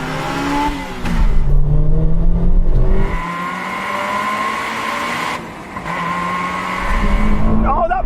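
A Honda S2000 engine revs hard in a race, rising and falling through the gears up close and loud, with brief lifts between pulls, while a voice talks over it.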